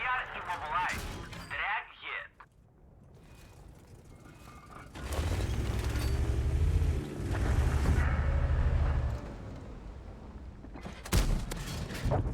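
Tank cannon shots fire in World of Tanks battle, a T28 tank destroyer engaging a TS-5, with loud booming blasts and a long rumbling roar, a sharp report near the end, and someone talking over the gameplay.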